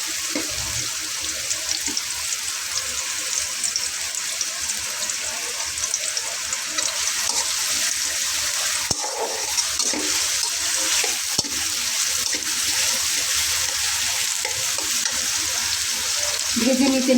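Chopped onions lightly frying in a pan for a potato and pangas fish curry, a steady close sizzle with scattered crackles, a couple of sharp utensil knocks and scraping stirs toward the end.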